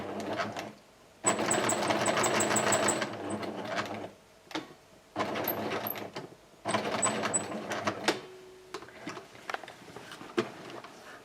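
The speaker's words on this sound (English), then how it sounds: "I just run over that stitch, do a little back stitch." A domestic sewing machine back stitching a fabric market tote bag runs in several loud bursts, rapid whirring stitches starting and stopping, with short pauses and small clicks between runs.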